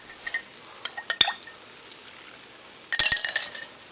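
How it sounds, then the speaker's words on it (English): A splash of chicken stock goes into a chicken noodle stir-fry: scattered utensil clinks, then a short, bright liquid pour with sizzle near the end. "Might even add just another splash of chicken stock."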